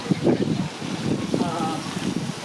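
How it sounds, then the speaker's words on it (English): Gusty wind buffets the microphone, a low rumbling roar with an airy hiss, steady and close throughout the short stretch. "we're going to need a speaker because it is windy here"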